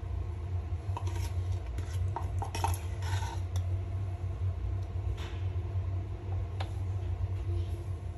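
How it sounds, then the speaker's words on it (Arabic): A spoon stirs a cream caramel mixture of whipped cream, cream and sweetened condensed milk in a bowl, giving scattered light clinks and scrapes over a steady low hum, with no talking. "كنحركوا الخليط جيدا، ما تخليوش هاد الحبيبات نهائيا"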